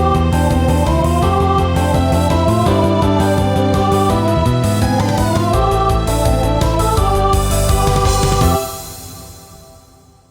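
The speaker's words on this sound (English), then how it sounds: "God, that drum fill just works so well." A full song mix plays with a drum fill and busy, ornamented hi-hats over dense sustained instruments, loud and continuous before dropping away sharply near the end.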